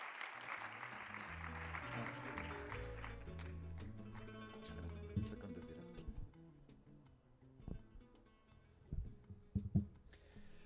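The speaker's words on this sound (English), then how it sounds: "This is your applause." Forum audience applauds the panelists, a thinning patter of clapping under background music and hall sound, with a few louder isolated claps and knocks near the end as it dies away.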